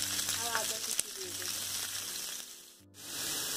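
Chopped garlic and ginger frying in oil with dried red chillies and bay leaf for a Bengali eggplant gravy, a steady close sizzle with faint tonal music running underneath and a brief dip near the end.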